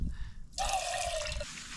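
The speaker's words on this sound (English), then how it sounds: "I am gonna get some water out of my blue bottle. Let's just feed some of that into there." Water poured from a blue bottle into a camping pot at a lakeside wild camp, a short bright gurgling stream lasting about a second after a quiet pause, close and soft.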